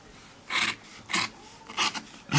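Sharp scissors cut through strands of yarn fringe in four distinct crisp snips, each a short raspy burst spaced about half a second apart, close and fairly quiet.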